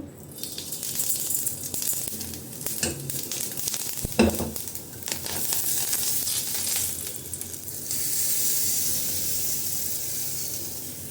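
Mustard seeds and urad dal sizzle steadily in oil with crackling pops, a sharper burst near the middle, then a brighter, hissier frying sound toward the end; no voices.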